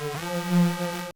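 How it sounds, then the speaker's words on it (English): An unfiltered synth bass line plays a single sustained, bright, buzzy note rich in harmonics with a slight pitch bend near the start. The note cuts off abruptly after about a second. "If you wouldn't use a filter, it would sound like this."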